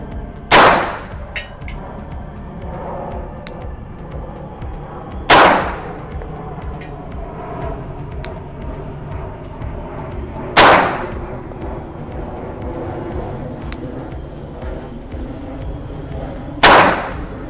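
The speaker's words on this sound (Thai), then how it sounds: "5นัดยิงที่ตรง X เลย" Loud, sharp gunshots are fired one at a time at a marked target, spaced about five seconds apart, with four cracks ringing out between quieter stretches of background noise.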